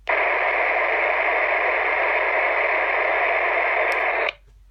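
Steady hiss of a Motorola Astro Saber handheld radio keyed to transmit, loud and continuous for about four seconds before cutting off abruptly.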